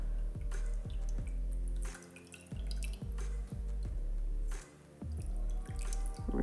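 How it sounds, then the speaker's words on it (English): Water drips and trickles in a steady, repeating rhythm as hands are rinsed with clean warm water in a bowl. The sound is close and quiet, and no one speaks. "I'm going to just rinse with some clean water here."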